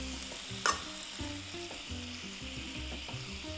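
Sauce with sesame oil sizzling in a hot frying pan, a steady close crackle with a sharp clang of cookware early on and a low hum underneath.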